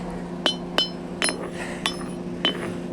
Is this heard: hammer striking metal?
yes